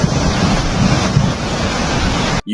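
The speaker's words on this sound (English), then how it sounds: "Ever heard of a flash flood?" Rushing water of a flash flood, a loud continuous roaring wash with wind buffeting the microphone, cutting off abruptly at the end.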